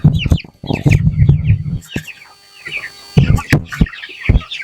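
Chickens clucking close by inside a chicken house, a busy run of short clucks and squawks, loud and near, with brief quieter gaps between bursts.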